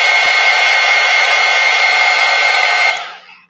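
A craft heat dryer blowing steadily and loudly at close range over a mixed media card for about three seconds, then whining down and cutting off, with no voices.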